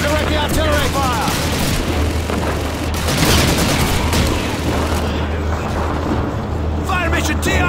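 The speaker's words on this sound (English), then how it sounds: "Sergeant Davis, use your binoculars to direct the artillery fire!" Loud, continuous World War II battle din from Call of Duty 2, with artillery fire and gunshots booming through the whole stretch while shouted voices cut in over the combat.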